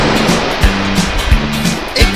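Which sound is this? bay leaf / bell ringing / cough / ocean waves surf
ocean waves surf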